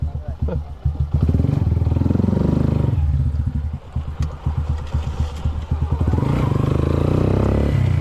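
Motorcycle engine running steadily up close, used to deliver a tank, with rattling clatter and rising revs over the last few seconds; a voice talks briefly near the start.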